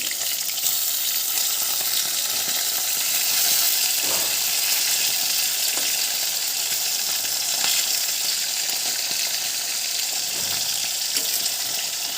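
Bhola fish sizzles in a pan with a bright, continuous frying hiss and a few faint clinks of stirring, close and steady throughout with no voices.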